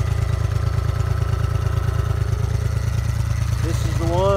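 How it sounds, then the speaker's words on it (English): A 2006 Honda four-stroke boat outboard motor runs steadily up close, its even pulsing thrum going on throughout, with a brief squeal near the end. "2006 Honda 4-stroke. Running good."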